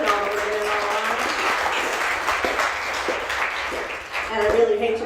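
Applause sweeps through the crowd at a poetry event in a busy room, steady and fairly loud, with people calling out and talking over it and a burst of cheering near the end.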